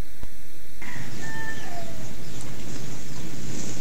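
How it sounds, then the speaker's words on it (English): A rooster crows once, faint and drawn out against a steady background hiss, with no talking over it. "I heard the chicken."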